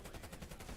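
Faint, rapid bursts of gunfire crackle in a steady, tightly spaced rhythm like machine-gun fire, sounding distant and low in level throughout.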